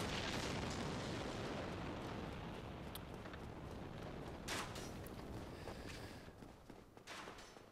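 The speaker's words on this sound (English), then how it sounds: "there's another giant up here that's throwing fire bombs at me" Fire bomb blasts hurled by a giant in Dark Souls, a dense, booming rumble of explosions and crackling fire filling the whole stretch, with a few sharper bursts cutting through, loud and continuous.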